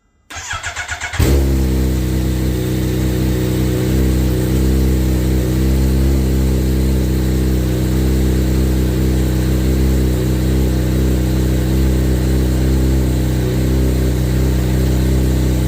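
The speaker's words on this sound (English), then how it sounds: "So we just finished letting it run for several minutes" A Kawasaki Ninja H2 motorcycle engine fires up and settles into a steady, loud, close idle with a constant low drone to warm its oil, running alone without speech.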